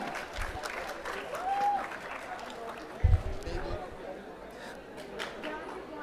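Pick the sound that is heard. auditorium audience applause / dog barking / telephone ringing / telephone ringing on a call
auditorium audience applause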